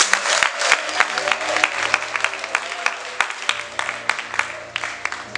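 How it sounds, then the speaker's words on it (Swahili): Congregation applauding in a Pentecostal church: a broad wash of clapping with sharp, distinct individual claps standing out near the mic, the applause gradually thinning toward the end, with faint low background sound beneath. "Hebu tujipigie wenyewe makofi."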